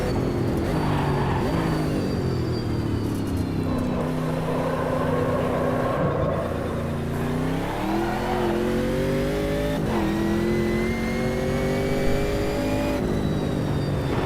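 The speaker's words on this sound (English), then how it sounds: "Big gurgly American muscle car sound." An American muscle car's engine in the racing game Automobilista 2 revs and climbs through gears with a big, gurgly roar, rising and falling in pitch steadily throughout without any talk.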